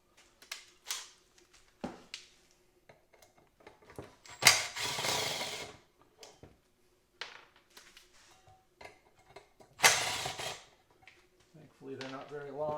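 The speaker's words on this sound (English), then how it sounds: "there's 4 screws going around this, so what we got to do is take those off." Power tool backing screws out of a 1500-watt electric patio heater, with several short whirring bursts between clicks and handling noise, a voice talking over parts of it.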